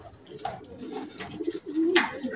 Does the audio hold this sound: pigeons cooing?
yes